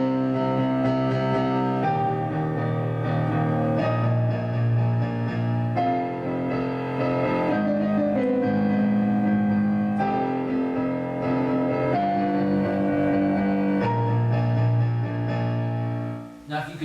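Solo piano plays the full Shin Gojira theme with both hands, a thick wash of sustained chords over a deep bass, continuous and evenly loud for the whole passage, with no voices.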